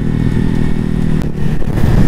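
Ducati Hypermotard 2021 engine revs hard and steady near the bike, a loud continuous motorcycle roar with clattery mechanical texture holding high through the full two seconds, no voices.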